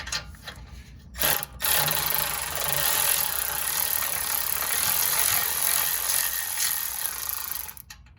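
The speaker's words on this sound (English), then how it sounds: "And these ratchets are a lifesaver." A rapid mechanical clicking whir runs continuously for several seconds after a few brief clicks, a ratchet spinning quickly on an Acura TL exhaust bolt, close and fairly loud.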